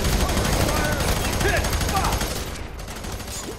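Sustained gunfire from the hip in the shooter game Fear 3, a loud, dense run of rapid shots that fades slightly toward the end, with battle noise filling the background.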